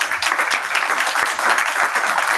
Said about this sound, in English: So give a huge applause to our